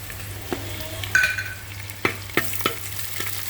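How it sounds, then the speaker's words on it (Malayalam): Green chilli, curry leaves, ginger and garlic sauté in a pan, giving a quiet steady sizzle broken by a few sharp scrapes and stirs of a spoon against the pan. "പച്ചമുളക് കറിവേപ്പില ഇഞ്ചി വെളുത്തുള്ളിയൊക്കെ നല്ലപോലെ വഴണ്ടല്ലേ"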